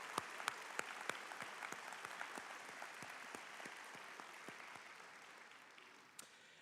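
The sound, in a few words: round of applause at graduation ceremony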